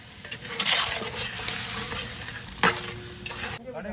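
Turkey meat for biryani cooking in a pot outdoors in a farm field, stirred with scraping strokes over a steady sizzle, one sharp clatter midway, close and fairly loud with no talk.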